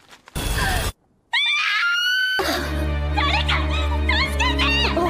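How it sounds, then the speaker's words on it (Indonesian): A person screams loudly: a short harsh burst, a brief silence, then a long, wavering high-pitched scream that sweeps up and down over a steady low drone. "Teriakannya itu juga terdengar sampai Mutsumi"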